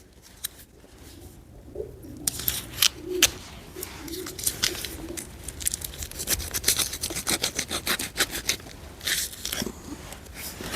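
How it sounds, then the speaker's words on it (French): Pigeons visiting someone who feeds them small pieces of raw-milk Cantal cheese along the Camino de Santiago give soft low coos near the start, then close pecking and crunching clicks that grow busier and louder outdoors. "J'ai de la visite, j'ai des pigeons."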